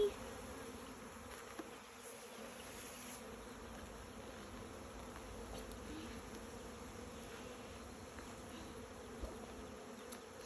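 Honey bees buzz steadily throughout a hive inspection, a continuous close insect drone that holds even in level for the whole stretch, with no talking.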